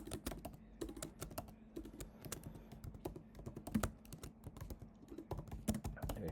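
Typing on a computer keyboard, quick irregular bursts of clicking keystrokes close to the mic, fairly quiet, with no voices.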